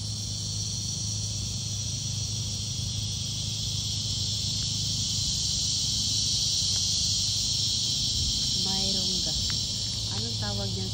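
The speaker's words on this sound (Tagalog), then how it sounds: "Anong tawag niyan sa atin? Kuliglig." Crickets chirp in a continuous, even, high-pitched drone outdoors at night in the Philippines near a magnolia tree. A person speaks briefly close by toward the end.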